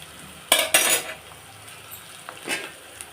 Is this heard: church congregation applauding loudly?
no